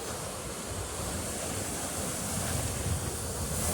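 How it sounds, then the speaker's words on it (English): Ocean waves wash in a continuous, even roar of surf, moderately loud and unbroken, with no voices. "hearing the ocean all day, every day, all night, every night"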